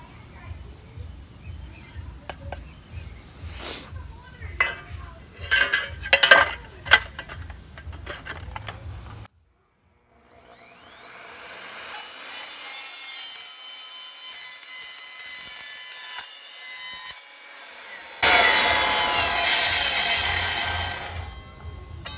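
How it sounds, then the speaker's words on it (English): Evolution R255SMS sliding miter saw cutting through pipe, with scraping, ticking passes early on, then after a brief silence a motor spins up and a loud, bright whining cut runs to the end. "this saw ripped through this like it was butter. Very clean cut."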